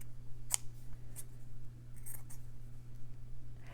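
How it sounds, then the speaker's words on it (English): Scissors snip bright yellow fabric being trimmed for a stitched sunflower, giving a few quiet, crisp cuts spaced irregularly over a low steady hum in a quiet room. "I'll start with this bright yellow fabric, and I'll just trim it down"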